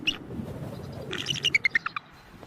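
Snow-covered female bald eagle calling to her mate during snowfall, a series of five or six sharp, rising high-pitched calls in quick succession, fairly close, over a soft low rumble of wind.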